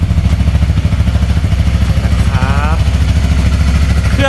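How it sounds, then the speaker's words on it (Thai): A 2017 Honda Rebel 300 motorcycle idles close by after a cold start, a loud, steady, even engine thrum with a fast regular pulse, while someone talks over it. "สตาร์ทครั้งแรกของวันนี้เบิ้ลช่วยนะครับ ชิ่งเดียวติดนะครับ อ่า เครื่องใสๆ"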